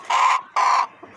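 Two loud, close rooster calls from pet roosters at home in the morning, each a drawn-out crow of about a third of a second, separated by a short gap and followed by a faint cluck.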